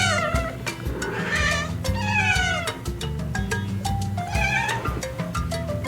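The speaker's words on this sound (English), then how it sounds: "C, cat, cat. Baby cat is known as kitten." A cat meows repeatedly in a steady series of clear, close, insistent calls with short gaps, some drawn out into whining wails, with no talking.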